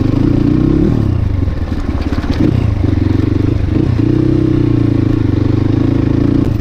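A motorcycle ridden on a dangerous off-road trail to a hill village churns loudly and steadily nearby, its engine note rising and falling with the throttle amid rattles and scrapes from the rough track.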